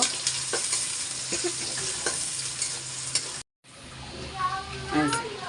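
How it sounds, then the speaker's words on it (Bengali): Garlic and onion frying in a pan while cooking dal with jute leaves, a continuous close sizzle with scattered stirring clicks, a brief silent break, then more sizzling with faint background voices or a cat-like cry. "রসুন রসুন পেঁয়াজ সুন্দর করে ভাজে নেব।"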